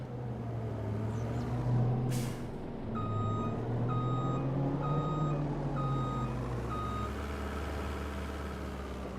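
An electric truck in Farming Simulator 25 sounds a steady series of evenly spaced reversing beeps over a constant engine and vehicle drone, moderately loud.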